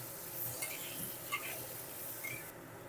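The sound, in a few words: potatoes frying with salt and turmeric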